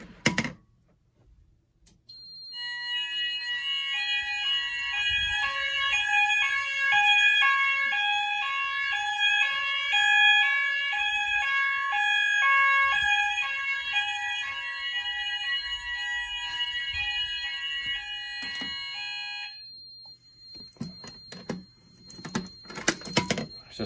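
An Apollo XP95 Discovery fire alarm system under test sounds with a repeating electronic tonal pattern for about fifteen seconds, steady and fairly loud, then stops, leaving faint handling noises.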